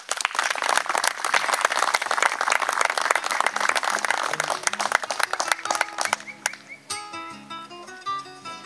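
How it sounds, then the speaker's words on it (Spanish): Audience applause welcoming a poet at a poetry gathering in the mountains, dense sustained clapping from a crowd that thins and fades out toward the end as a musical tone rises. "Lo recibimos con un fuerte aplauso."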